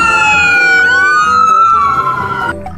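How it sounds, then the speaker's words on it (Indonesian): A toy ambulance siren wails loudly and close, its rising and falling electronic tones sweeping continuously with no talking. "kita lanjutkan mendapatkan ambulan"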